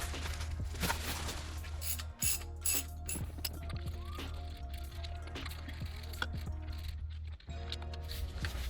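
A ratchet works loose the transmission pan bolts on a supercharged Range Rover L322, giving repeated rapid clicking pawl runs with brief pauses between strokes, close and fairly loud.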